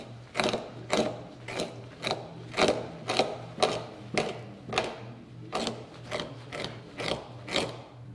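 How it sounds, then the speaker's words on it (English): Coyote hide being fleshed on a fleshing beam, a series of about a dozen sharp scraping strokes at an even rhythm, close and fairly quiet, with a faint low hum beneath. "we'll start fleshing here"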